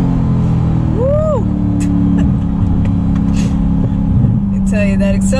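A 2020 Chevrolet C8 Corvette accelerating, heard from inside the cabin: a loud, steady engine drone runs throughout, with brief excited vocal whoops from occupants.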